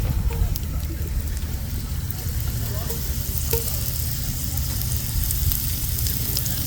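Steak and onions frying fast in oil in a camp oven, a constant close crackling sizzle with occasional sharp pops and faint stirring, steady throughout.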